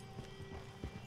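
Horse hooves clip-clop in Red Dead Redemption 2, a brief run of soft, evenly spaced steps close by under a quiet background.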